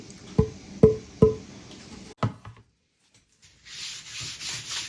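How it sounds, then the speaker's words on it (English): Three short scraping strokes in quick succession, then a brief pause and a softer hiss of sanding a porous wooden guitar body, close by and fairly quiet. "Now onto the sanding before we can apply the finish to the body."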